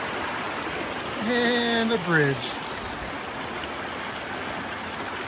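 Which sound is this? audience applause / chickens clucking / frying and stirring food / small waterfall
small waterfall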